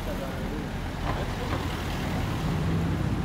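Cars and other traffic pass along a city street, a steady, fairly loud roar of engines and tyres that runs without a break and sits under a nearby voice.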